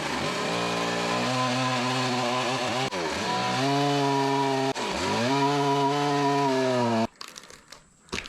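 A chainsaw cutting an ash tree into log lengths, its engine loud and close, holding high revs under load with two brief dips as the cut progresses, then dropping to idle near the end.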